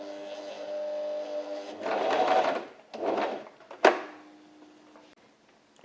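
A sewing machine runs briefly forward, then stitches in reverse in two short whirring bursts, ending with a sharp click of the lever, close and fairly quiet.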